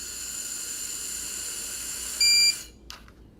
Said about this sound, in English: all you have to do is to tell the patient to blow in it until you hear a beep